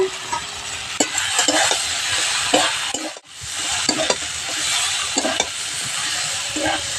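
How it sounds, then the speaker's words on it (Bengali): Taro stolons and pieces of pre-fried fish are stirred together in a little hot oil in a wok, giving a steady sizzle broken by repeated scraping stirs and one brief pause midway. "লতিটা একটুখানি তেলের মধ্যে 2 মিনিট নাড়াচাড়া করে নেব"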